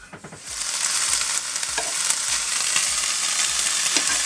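Sausages fry on a plug-in ceramic hob, giving a steady, dense sizzle that swells after a brief start and holds loud and close, with occasional crackles and spits of fat.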